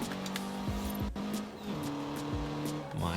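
An 1980s turbocharged car with a 2.6 engine launches hard off the line in Forza Horizon 4, its engine revving and shifting through rising, falling pitch with tire noise, close and loud, with someone talking over it.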